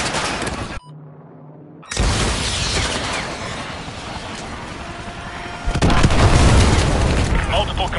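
AGM missile strikes in Call of Duty Modern Warfare 2 remastered: loud, close explosions and heavy rumbling blasts, a sudden drop to near quiet, then sustained roaring booms building to a bigger burst, with voices talking throughout.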